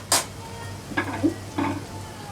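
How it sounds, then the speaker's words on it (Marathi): Fresh coriander being sautéed and stirred in a pan while cooking besan zunka. There are three short scraping stir strokes over a soft, steady sizzle, close up and clear. "थोडीशी कोथिंबीर यावेळी छान परतवून घेणार आहोत"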